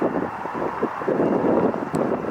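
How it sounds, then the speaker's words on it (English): A NetJets Embraer Phenom 300 business jet arrives at LAX, its broad steady engine rumble heard from a distance, buffeted by heavy wind noise on the microphone throughout. "Coming in is Embraer Phenom 300 Flight 410 NetJets coming in from Bozeman"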